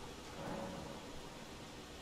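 Storm in the Elden Ring video game: a low rumble of thunder over steady rain hiss, faint and brief, no voices.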